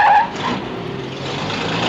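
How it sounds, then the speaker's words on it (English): A car in a 1960 Twilight Zone episode skids with a brief high tire squeal, then a sustained engine and road roar as it swerves close to nearly hitting people; loud and continuous, with no talking. "They were almost hit by a car."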